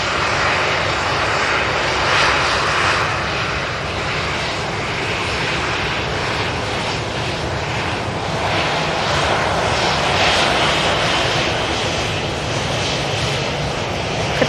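An Ethiopian Airlines airliner at Manchester Airport roars with a sustained, loud engine rumble and hiss, steady throughout with slight swells as it moves, no voices over it.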